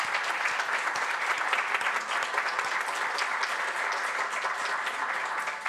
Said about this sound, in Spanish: Les pido, por favor, un aplauso para Lilian.